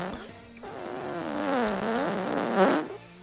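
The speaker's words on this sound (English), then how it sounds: "That's a long fart." A long, drawn-out fart lasting about three seconds, close and fairly loud, with a wavering, buzzy pitch that swells toward the end.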